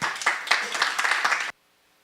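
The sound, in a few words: applause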